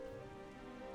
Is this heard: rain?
yes